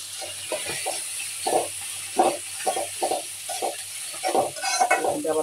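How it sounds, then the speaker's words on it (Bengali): Pabda fish cooks in a spiced bhuna masala of ginger-garlic paste, chilli and turmeric, with a constant hiss of frying broken by repeated, rhythmic bursts of stirring and scraping close up. "আবার মাছটা ফ্রাই হচ্ছে"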